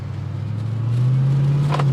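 A Jeep with a Hellcat supercharged engine and bobbed bed revs up, its rising mechanical whine climbing steadily over a low engine drone, close and fairly loud.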